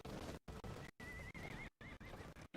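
Horses whinny in the video game Drakengard 3, a few shrill, wavering neighs with hoof clatter, heard close and fairly quiet with brief silent gaps between bursts.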